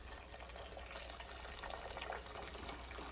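Boiled kettle water pours steadily into a pot of three-legume lentil soup, a continuous soft gushing splash at moderate level with no speech.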